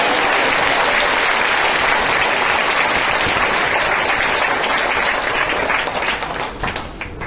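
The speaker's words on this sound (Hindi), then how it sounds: "जोर से ताली बजाओ, जोर से।" Loud, dense applause from a church congregation during a Hindi-Bengali sermon, sustained steady clapping that fills the space for several seconds before thinning out at the end.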